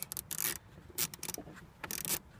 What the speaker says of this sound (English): So I'm going to take this plastic thing off.